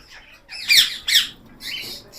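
Ringneck parakeets in an aviary give three or four harsh, shrill squawks in quick succession, close and loud with short gaps between calls.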